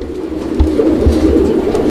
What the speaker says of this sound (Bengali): দর্শক বন্ধুরা, আমরা এই মুহূর্তে দেখতে পাচ্ছি এখানে আরো এক জোড়া গিরিবাজ।